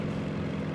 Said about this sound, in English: It's a plane. Yeah, it's looks like a JU-88. It's German.